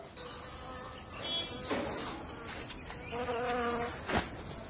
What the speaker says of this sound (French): je crois qu'il y a une abeille sur la tête. C'est une guêpe.